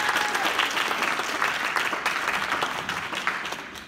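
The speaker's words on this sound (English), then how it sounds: "Everybody give him one more round of applause." Sustained audience applause at a charity singing competition for St. Jude, a steady dense wash of clapping from a crowd that carries on for several seconds without pause.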